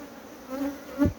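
Honeybees buzz around their hive in Guyana, a close, wavering drone with one louder bee passing near the end.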